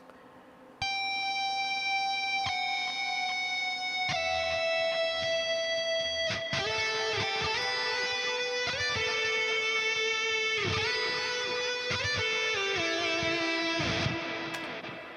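A distorted electric guitar lead through the Archetype plugin's Flying Lead preset plays alone, loud and sustained, with bent and held notes over dense harmonic overtones after a brief quiet start.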